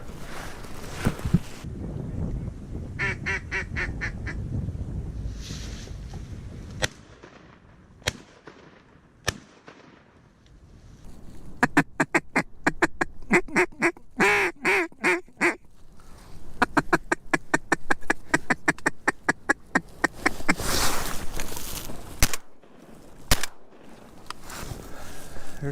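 Mallard ducks quacking in rapid rhythmic bursts during a duck hunt, close and loud, mixed with sharp shotgun blasts and wind noise in open marsh.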